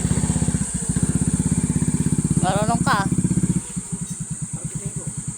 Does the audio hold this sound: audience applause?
no